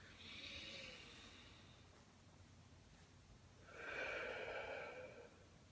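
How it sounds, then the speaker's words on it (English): Two forceful breaths in a pranayama breathing exercise, a soft rushing breath followed by a louder, longer hissing exhale, close and quiet with no talking. "the second pranayama, which is a second form of breathing control, is actually going to be a forceful exhale"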